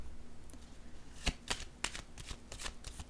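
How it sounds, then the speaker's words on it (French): Tarot cards shuffled in a few sharp, separate papery snaps and flicks, close and distinct, as a card is pulled from the deck, with no voices. "Je vais piger une carte sur le diable à l'envers."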